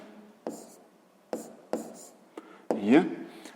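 A pen writes by hand on paper, a handful of short scratchy strokes with pauses between them, close and fairly quiet, while a voice speaks quietly over parts of it.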